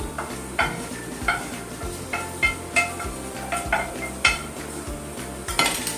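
Cooked vegetables tipped into a pan of spiral cheese pasta, with repeated metallic clinks and scrapes of a spoon against the pan at a steady stirring rhythm and a faint sizzle underneath.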